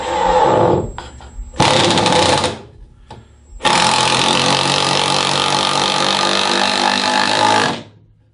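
A Milwaukee M18 two-speed right-angle impact driver drives a 2.5 inch screw into wood, firing in loud hammering bursts: two short runs, then one long sustained rattle of about four seconds that stops abruptly.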